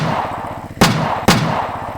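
A gunfire sound effect in a Thai crime story about gunmen shooting at a former mafia figure hiding under a narrow wooden bridge. Two sharp, loud shots about half a second apart crack over a steady, low droning background.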